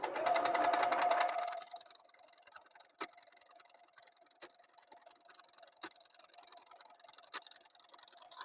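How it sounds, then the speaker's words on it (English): A sewing machine runs a steady burst of about a second and a half while stitching a quilt block a 3/8-inch seam, then goes quiet, leaving a faint tonal hum and a few sharp clicks. "So I'm going to sew this down 3/8 of an inch."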